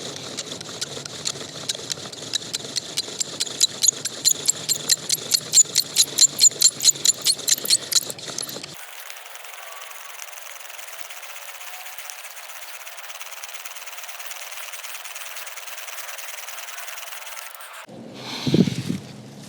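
A wooden bow drill spins against a fireboard in an attempt at friction fire, making a quick rhythmic run of squeaky back-and-forth strokes that builds and then stops, followed by a long quiet stretch and one brief final scrape.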